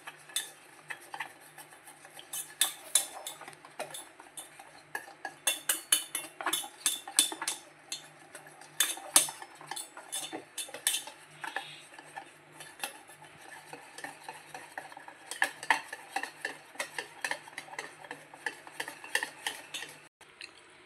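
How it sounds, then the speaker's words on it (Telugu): A spoon stirs gram flour batter with water in a bowl for mirchi bajji, giving steady close scraping and tapping against the bowl that runs continuously with no talking. "సరిపడిన వాటర్ పోసుకొని కలుపుకోవాలి"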